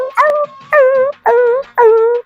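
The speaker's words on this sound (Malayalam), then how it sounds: "എന്താ അവിടെ ഒരു പട്ടിയുടെ സൗണ്ട്?" A dog gives four short, whining howls in a steady rhythm, each drawn out for about a third of a second with brief gaps between. The howls are close and clear, with no talking.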